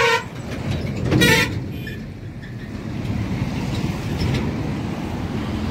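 Road traffic rumbles steadily across a railway overbridge, with a loud car horn toot near the start and a continuous broadband roar of passing vehicles throughout.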